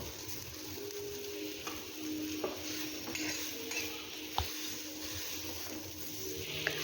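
Fried masala for a chicken curry is scooped from a pan, with quiet scraping and stirring of a utensil against the metal over a faint sizzle and a few light clinks.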